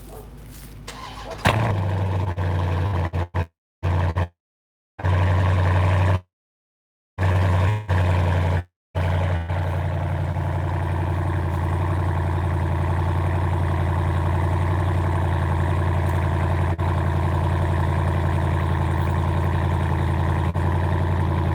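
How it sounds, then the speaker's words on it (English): A Dodge Durango SRT cold-starts with a loud exhaust, cranking and catching into a sharp roar that settles into a deep, steady, loud idle rumble, with a few abrupt gaps of silence early on. "Durango cold start"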